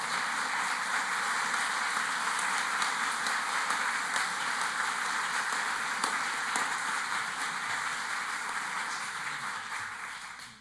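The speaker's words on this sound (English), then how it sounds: "please stand so we can recognize your contributions with a round of applause" A round of applause from a community association audience honouring team members at a presentation, dense steady clapping held at an even level for several seconds before fading out at the end.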